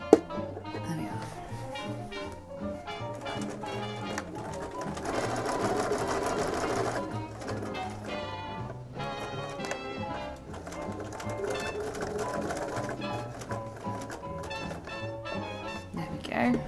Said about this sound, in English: I have to make sure I'm sewing over the very edge of the welt